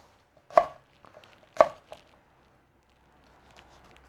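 A kitchen knife on a cutting board dices seeded chilies for a Venezuelan sofrito, giving two sharp close chops and a few lighter taps, followed by near silence.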